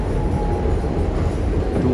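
A New York subway train rumbles steadily from inside the car, a loud continuous low roar with faint rattling and no voices.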